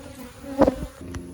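Honeybees from a hive just treated for mites buzz in a few brief, close passes, one louder swell in the middle over a faint background hum.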